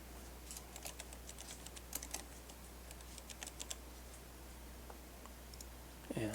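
Quiet, irregular clicking of computer keyboard keys being typed in short bursts, close by, with a faint steady hum underneath.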